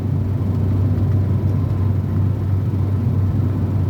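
A car driving on an open toll road, a steady loud low engine and road rumble heard from inside the vehicle, continuous and even throughout, no voices.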